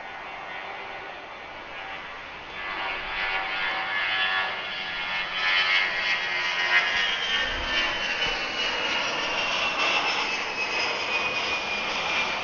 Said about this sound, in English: on the takeoff roll is an A319 headed to Washington Dulles